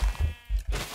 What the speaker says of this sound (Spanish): Uy, escuché oveja.